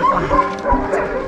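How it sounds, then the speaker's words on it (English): A dog gives a few short, high yips and whimpering barks in quick succession, close by, with some room noise in the background. "this is a very smart dog"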